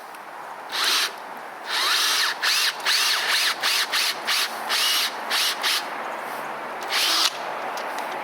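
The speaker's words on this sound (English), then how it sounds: "when I drill into the tree, I want to make sure I'm going at an upward angle" A cordless power drill bores a hole into a maple tree trunk in short repeated bursts, whining and grinding through wood with brief pauses between runs, close and loud.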